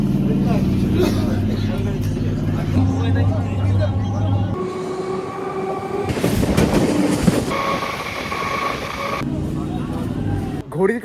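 Train at Naihati station, West Bengal, with loud rolling rumble, tonal hums and clattering wheels as it passes close by, changing pitch in several stages, with people talking around it.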